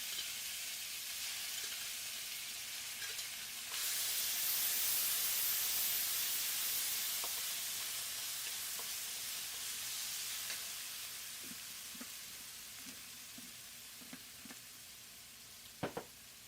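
Onions sizzle in a hot pan with ginger and garlic, giving a steady broad hiss that swells when more goes in, with a few light clinks of stirring near the end.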